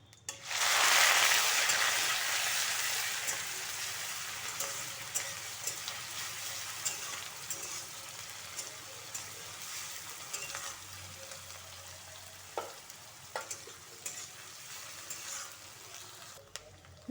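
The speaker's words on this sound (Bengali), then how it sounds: "দেখো পেঁয়াজটা লাল লাল করে ভাজা হয়ে গেছে" Ground onion paste fries in a pan with bay leaf in the oil, a loud steady sizzle that bursts in strongly at first, then settles into a softer continuous crackle with occasional small pops and stirring clicks.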